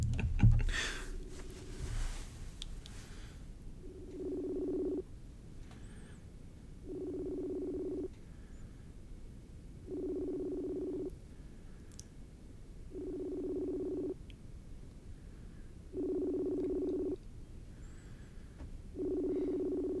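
An unanswered phone call rings back repeatedly: a steady pattern of evenly spaced ringback tones, each about a second long with roughly two seconds of quiet between, faint and heard alone after a short bump at the start.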